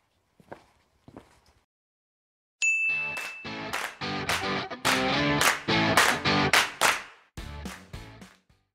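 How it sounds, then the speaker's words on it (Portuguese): Channel intro jingle for a Portuguese-language biology channel: a short bright chime opens it, then a loud rhythmic run of punchy musical hits and stabs follows with no talking, after a few faint taps at the start. "Ativa o sininho, se inscreve no canal e roda essa vinheta."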